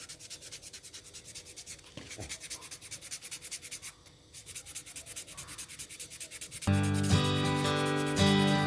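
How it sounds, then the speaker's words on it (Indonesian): Sandpaper rubs back and forth on a handmade swimbait fishing lure in quick, regular strokes up close, turning louder and rougher near the end. "sekarang tinggal kita amplas, kita gosok biar"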